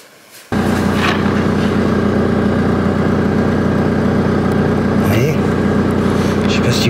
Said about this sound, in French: Pour ça, il faut déjà mettre en route la voiture.